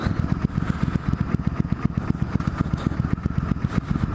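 A motorcycle ridden along a road at night, its engine running steadily and close with a pulsing, throbbing rumble that holds throughout without talk.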